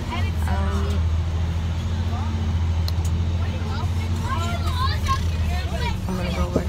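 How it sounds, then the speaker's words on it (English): Interior of a bus travelling home, a steady low engine drone and road rumble running throughout with chatter from nearby passengers over it. "I'm on the bus on the way home"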